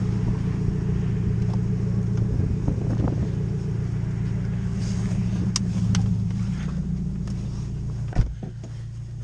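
A 2017 Subaru WRX STI driving, heard as a steady low engine and road rumble throughout, with a sharp knock near the end.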